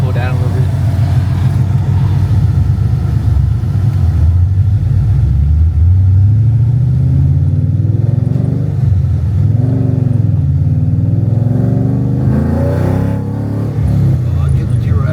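Ford Mustang with a 700 hp engine rumbling loudly and revving throughout, its pitch rising and falling, while people talk over the continuous engine noise.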